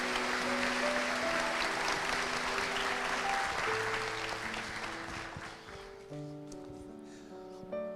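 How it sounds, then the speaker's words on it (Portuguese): Audience applause for speakers at an evening lecture, steady clapping that fades over several seconds while sustained musical tones play underneath. "eu peço uma salva de palmas desde já"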